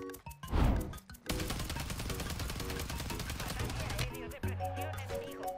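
A COR 45 pistol fires in Warzone 3 in rapid sustained shots lasting several seconds. The gunfire sits under talk and game sounds, after a short burst near the start.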